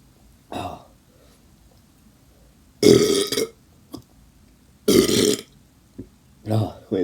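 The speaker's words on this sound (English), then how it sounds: "That's a pretty good burp, though." A person burps after drinking carbonated soda: three loud, drawn-out belches close up, each a few seconds apart, with short quieter sounds in between.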